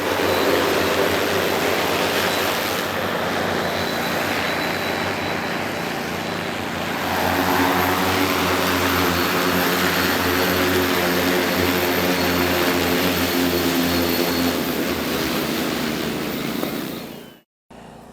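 An agricultural spray drone lifts off for a field calibration run, its rotors giving a loud, steady, droning whine that holds for the whole stretch before cutting out abruptly at the end.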